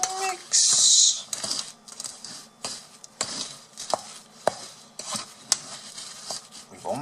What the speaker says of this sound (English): You must mix the bowl and do it like this.